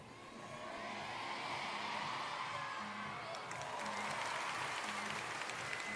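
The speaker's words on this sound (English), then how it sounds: "A huge noise from the crowd there during that first tumbling pass" Crowd at a men's floor exercise gymnastics final at the Paris World Challenge Cup roars steadily through a tumbling pass, a dense wash of cheering and applause that swells and holds for several seconds at a distance.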